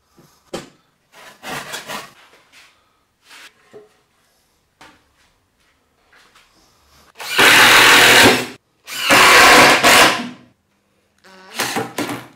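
A power drill drives screws into a piece of form ply plywood, with short bursts early on and then two long, loud, sustained runs near the end, followed by a final brief burst.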